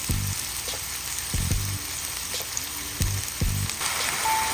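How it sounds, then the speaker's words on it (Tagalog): Garlic, onion, ginger and tomato sizzle steadily as they sauté in a pan, with periodic louder bursts of frying and stirring across a continuous hiss; no one speaks. "ginigasan na po natin ang ating bawang, sibuyas, luya, at ating kamatis"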